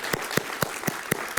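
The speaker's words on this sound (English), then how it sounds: "So let's give a round of applause for everybody here." Six crisp, evenly spaced claps ring out at a closing ceremony, a slow, steady beat that sounds like a few hands rather than a full crowd.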